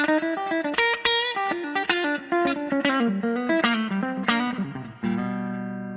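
Clean electric guitar through the clean channel of a Koch Greg Koch signature amp plays a bright melodic run of picked single notes, ending on a sustained ringing chord, with a touch of reverb.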